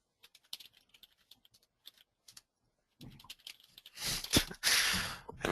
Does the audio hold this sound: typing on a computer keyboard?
yes